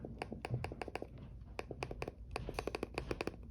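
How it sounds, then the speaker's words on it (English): Keys on an HP Chromebook X2 detachable keyboard are pressed in quick succession, a series of crisp, close clicks tapping out an irregular typing rhythm, some bunched, some spaced, over faint background hiss. "So here's the keyboard."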